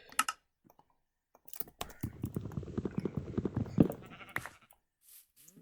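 In a video game, a sheep bleats in a loud, wavering, close call lasting about two seconds, with sharp clicks and taps before and after it.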